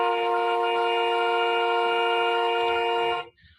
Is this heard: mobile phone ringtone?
no